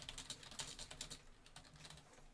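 Fingers type on a computer keyboard in a quick, irregular patter of soft clicks, close but faint and quieter toward the end, with no voices.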